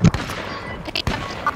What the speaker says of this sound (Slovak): Do mňa strieľa.